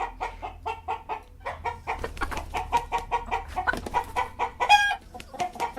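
Chickens cluck steadily in a rapid, irregular stream of short calls, close and fairly loud over a low background hum, with one brief higher squawk near the end and no speech.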